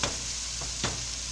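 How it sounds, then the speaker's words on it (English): Beef bourguignon simmering in a pot gives a steady, low bubbling hiss, with a couple of brief stirring scrapes near the start and again close to the end. "We'll let that simmer and keep an eye on it."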